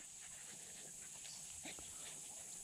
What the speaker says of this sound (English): Yeah, that puppy's hopping around.